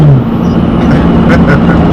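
A Dodge Challenger 392 Scat Pack spins its tires without traction, a loud close roar of engine and tire scrub that holds steady for about two seconds with no voices.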